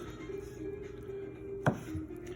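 A Viking knife slices through a cooked ribeye steak, giving a single sharp cut-and-tap against the board over a faint steady hum, followed by a softer knock.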